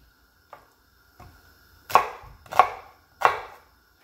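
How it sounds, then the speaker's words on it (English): A knife chops onion on a board for a Jamaican fish head soup: two light taps, then three loud, crisp chops about half a second apart, close by and with no voices. "Onion, you can cut it whichever way you want to cut it to."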